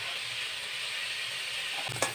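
Cauliflower florets, salted and coated with turmeric, frying in hot oil, a steady close sizzle and hiss throughout with a brief stirring clatter near the end.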